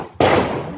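A single sharp gunshot cracks out at a Coast Guard K9 shooting range, a sudden loud blast followed by a short ringing decay with no voices over it.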